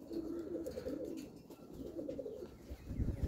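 Roller pigeons coo near the loft in repeated soft, throaty rolls that run on and overlap. A faint rustle and low background noise sit underneath.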